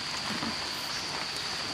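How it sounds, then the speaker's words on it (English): Steady rain falls in a hot rainy season, a dense, even hiss of drops on surfaces that stays close and unbroken for the whole stretch, with no voices. "But it's raining."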